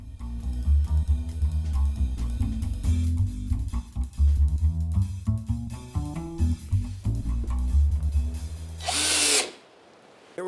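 A power drill drives screws into a wooden 2x4 while attaching a sign top; loud, uneven whirring and grinding with short bursts, ending in a sharp high whine before cutting off.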